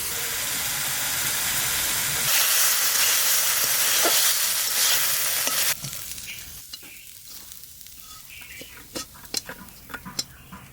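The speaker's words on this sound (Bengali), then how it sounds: "কি সেন্ট বেরিয়েছে ওটা গো, চিংড়ি মাছ ভাজার।" Prawns frying in a pan during a home cooking session, a loud steady sizzle and hiss that drops sharply partway through, followed by quieter crackles and scattered stirring clinks.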